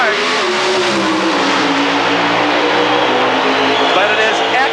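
Drag racing cars launch hard from the start line, a loud, sustained engine roar with climbing pitch that stays dense and continuous throughout, with a commentator talking over it.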